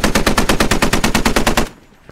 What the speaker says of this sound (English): Not sure where Yuri thinks he's being shot from